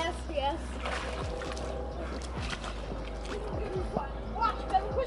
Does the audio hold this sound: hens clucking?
no